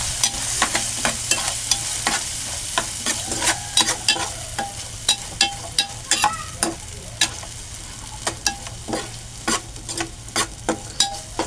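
Sliced onion and green chillies sautéing in a pan sizzle softly while a spatula scrapes and taps the pan in repeated, uneven strokes, close and with no speech.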